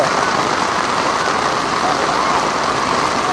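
Heavy rain pours down steadily during a Cambodian Visakha Bochea festival at a temple, a dense, loud, unbroken hiss of water hitting surfaces throughout.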